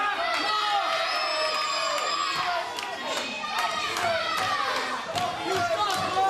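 Wrestling crowd in an arena reacting as one wrestler offers a handshake to his opponent, a loud continuous roar of voices, shouts and whoops with scattered sharp claps, steady throughout.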